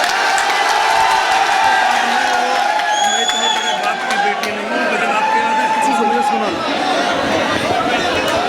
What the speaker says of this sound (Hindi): भाई एक जोरदार तालियों से दानिश को हौसला है।